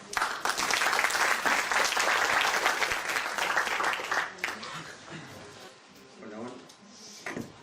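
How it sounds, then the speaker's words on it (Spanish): A burst of loud applause from a conference audience, dense clapping that gradually thins and fades over several seconds, with a few voices near the end. "recibimos a Carlos con fuertes aplausos"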